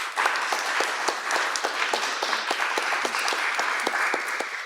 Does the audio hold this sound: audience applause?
yes